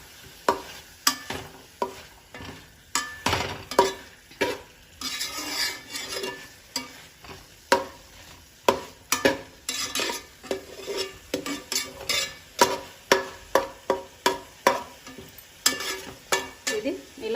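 Brown onion sizzles in a pan while a utensil stirs and scrapes it in a steady rhythm, sharp metallic knocks repeating close up over a constant frying hiss, with no talking.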